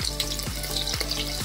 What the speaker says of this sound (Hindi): तेल गर्म हो गए हैं, यहाँ पर तड़के मिर्ची, जीरा और हरी मिर्च ऐड कर दूँगी